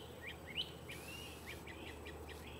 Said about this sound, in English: The birds are chirping because they had a bird's nest up in there.